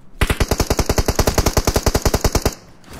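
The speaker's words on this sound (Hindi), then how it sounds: "आगे से फायर आ रहा है" Rapid automatic gunfire in the mobile battle royale game BGMI, a long even burst of about two dozen sharp shots in quick rhythm, loud and close, then stopping abruptly.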